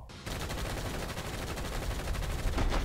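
Sustained automatic gunfire from the animated film Suicide Squad: Hell to Pay, a loud, continuous rattling barrage with no pause throughout.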